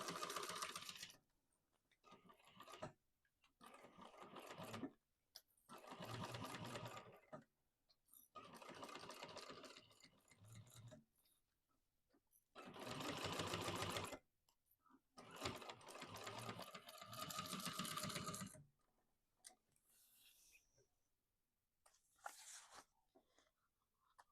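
Sewing machine stitching a welt pocket seam on a bag, running in repeated bursts of several seconds each, close and steady, with short quiet pauses between runs and lighter handling sounds near the end.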